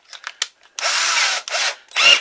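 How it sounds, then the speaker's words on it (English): Small cordless drill running in drill mode: a few short quiet blips, then three loud whirring bursts of near, steady motor spin separated by brief pauses, no talking. "it's got the drill mode, the clutch"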